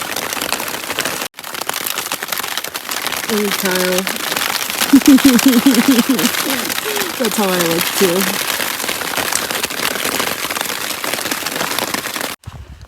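Dense, steady patter of hail and rain drumming on a surface close by during a mountain thunderstorm on the Pacific Crest Trail, with people talking now and then underneath.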